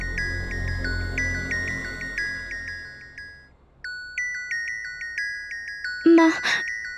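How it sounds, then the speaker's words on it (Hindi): A mobile phone rings in a home during a Hindi TV drama scene, its repeating electronic ringtone melody cycling in short phrases, first over a low background hum and then alone, with a brief voice cutting in near the end. "फोन बज रहा है तुम्हारा।"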